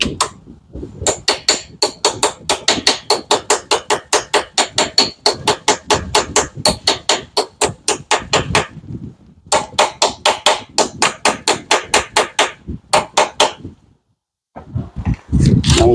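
A hammer taps a car battery terminal into place on a Honda Odyssey in a long run of sharp, evenly spaced metallic strikes, close and loud, with a couple of brief pauses.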